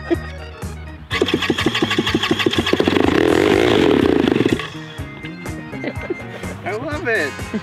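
A loud, buzzing paramotor engine roars steadily, rising to a harsh peak mid-clip before easing, with voices talking faintly underneath.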